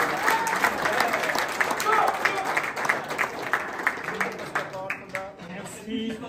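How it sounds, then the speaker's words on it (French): Audience applause at a competition event, crowd clapping fairly close with distinct individual claps, thinning out toward the end as voices and chatter rise over it. "je crois qu'on peut t'applaudir à nouveau"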